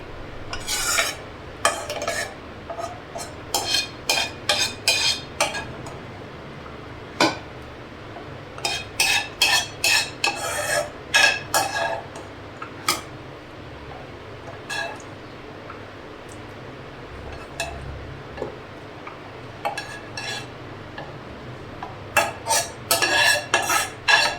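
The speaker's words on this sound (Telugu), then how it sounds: "కలర్స్ వేసుకున్న అన్నిటిని ఒకసారి మిక్స్ చేసుకోవాలి" Colored raw papaya tutti frutti pieces are mixed in a bowl with a spoon. Quick clinking, scraping strokes come in repeated bursts with short pauses, close and fairly crisp.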